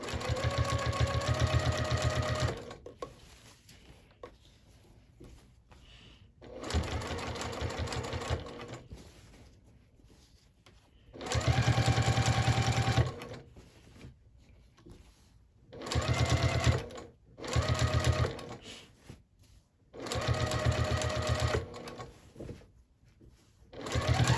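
A sewing machine top stitches a quilted tote bag in five bursts of fast, even whirring, each several seconds long and separated by quiet pauses filled with faint handling sounds, close and clear.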